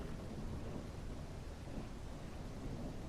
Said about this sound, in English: it looks like I'm going to have a playthrough today that's going to be riddled with rain for most of it